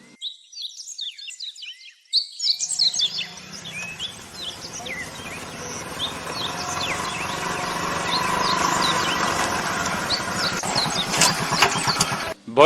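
A faulty motorbike engine starts abruptly after a short silence and settles into a steady, close idle, with birds chirping and occasional voices around it.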